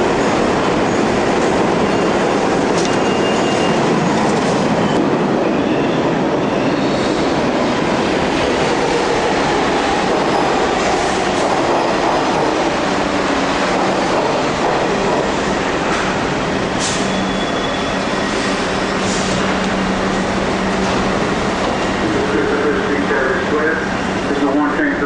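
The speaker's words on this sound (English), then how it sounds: "How everyone in New York isn't completely deaf from the noise of the subway, I don't know." Loud, continuous roar of a New York City subway train running, with rattling wheels, metallic squeals and clatter, and people talking faintly underneath.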